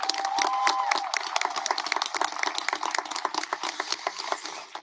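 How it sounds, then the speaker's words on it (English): A crowd applauds at the 2021 Vista Del Lago High School graduation ceremony, a steady patter of clapping from a large audience that stays fairly distant and even for about five seconds. "One more round of applause for Miss Andrea."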